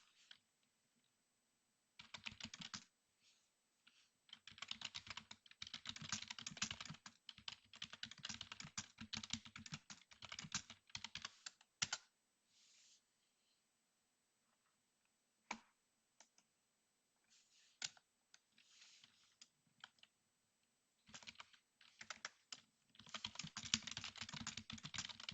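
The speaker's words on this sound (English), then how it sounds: "Think about it while I type the previous sentence" Someone types on a computer keyboard in a quiet room. Keystrokes rattle out in bursts of rapid clicking, broken by pauses of near silence, and a longer flurry of typing closes the passage.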